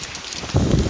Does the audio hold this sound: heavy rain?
yes